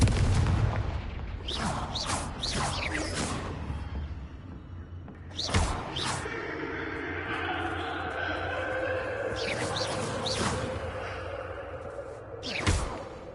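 Repeated Confringo fire spell blasts from Hogwarts Legacy burst out as loud whooshing booms, several in quick succession early on and more scattered later, over a steady ambient rumble.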